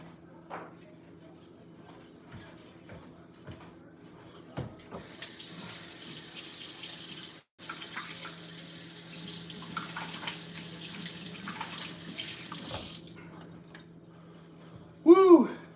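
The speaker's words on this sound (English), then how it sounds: "We're going to water the plants." Water runs steadily from a tap to water plants, a broadband hiss lasting several seconds in the middle, with quieter indoor sounds before it and a short loud voice at the end.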